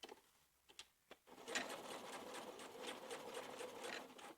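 Sewing machine topstitching a patch pocket on baby dungarees, a few quick clicks first, then a close, steady mechanical whir of continuous stitching.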